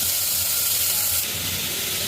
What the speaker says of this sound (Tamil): கடுகு போட்டுக்கிறேன்